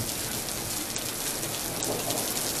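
Heavy rain pours steadily in a dense, constant hiss during a thunderstorm with lightning overhead, with a dull rumble of thunder low beneath it.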